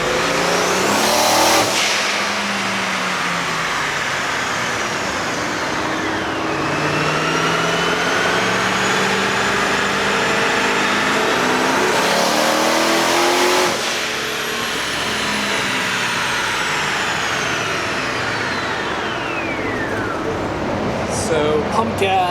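Twin-turbo Pontiac G8 GXP running on a dyno on pump gas, engine revving loud and sustained through rising gear pulls with turbo whine, while people talk over it.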